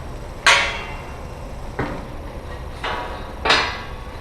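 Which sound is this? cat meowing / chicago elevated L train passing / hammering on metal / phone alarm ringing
hammering on metal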